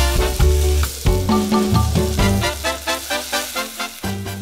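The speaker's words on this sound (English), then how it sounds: "add the kimchi and keep stirring" Pork and kimchi stir-fry in an oiled pan, with loud sizzling broken by repeated rhythmic scrapes and clanks of stirring that keep pulsing through.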